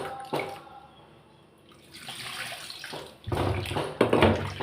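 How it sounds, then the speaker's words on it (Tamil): Tamarind being dissolved in water by hand for fish curry, wet squishing and sloshing close by, quiet at first then louder in irregular bursts. "இப்போ புளியை கரைச்சிக்கிறேன்."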